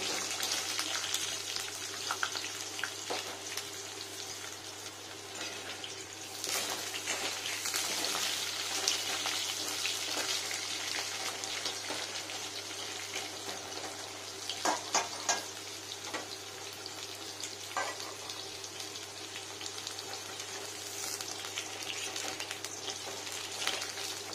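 Potatoes frying in a pan with panch phoron spices, dried red chillies and bay leaves, a steady close sizzle with scattered crackles and pops, continuous and unbroken by speech.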